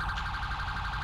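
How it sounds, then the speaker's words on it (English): A police car air horn in a video game blares in a short, steady, moderately loud wailing tone. "Well, we have an air horn."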